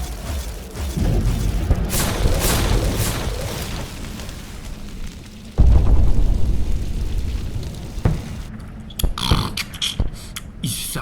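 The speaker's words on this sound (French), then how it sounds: "Et le centre de communication explose." An explosion effect as a communication centre blows up in a grimdark Death Guard tabletop campaign mission: a rumbling roar, a sharp heavy boom midway, then crackling debris bursts, loud with no voices.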